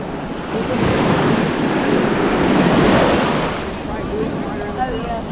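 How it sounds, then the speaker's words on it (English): Ocean surf washes steadily onto the beach at Blind Pass on Sanibel, Florida, a loud continuous rush of breaking waves with wind buffeting the microphone that swells and then eases slightly toward the end. "I know a lot of you love to hear these beach sounds,"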